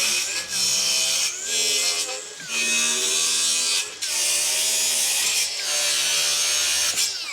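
A power saw cuts wooden sub fascia boards on an off-grid build, its whining motor buzzing loud and close in several long passes separated by brief dips.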